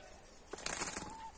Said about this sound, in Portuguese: Olha, acabou de voar, não sei que pássaro é.